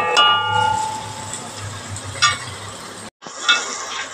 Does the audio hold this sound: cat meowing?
no